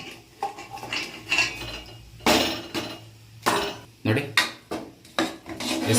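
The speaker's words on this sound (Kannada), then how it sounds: "ಇತ್ತಲೆ ಪಾತ್ರೆ ಇಟ್ಕೊಂಡಿದ್ದೀನಿ ಇದರಲ್ಲಿ ಬೇಯಿಸಿಟ್ಕೊಂಡಿರೋಂಥ ಅನ್ನ ಹಾಕ್ಕೊಳ್ತಿದ್ದೀನಿ" Cooked rice is scooped into a metal pot for Sankranti pongal, with a series of close clanks and scraping rubs of a utensil against the pot coming in irregular bursts, and no talk.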